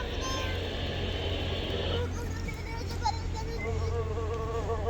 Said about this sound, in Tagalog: Langaw.